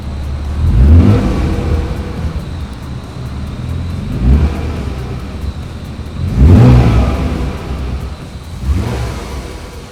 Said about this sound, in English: All right, let's get some little revs.